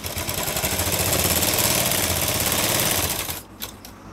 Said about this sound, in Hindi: यहाँ पर हम एक सीधी सिलाई लगा लेते हैं